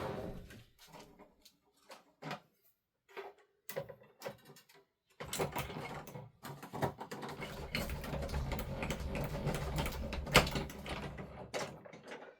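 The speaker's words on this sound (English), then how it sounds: "Now I'm using the Perfect Touch and Tag just to cut this panel out." A Spellbinders Perfect Touch and Tag die-cutting machine cutting out a card panel: scattered clicks and handling knocks at first, then a steady grinding, rumbling roll as the plates pass through, close by with no talking.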